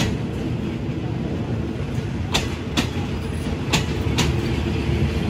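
SRT express train no. 37 arrives at Surat Thani station in Thailand, a steady loud rumble of rolling wagons with several sharp metallic clacks and squeals rising over it, close by and continuous.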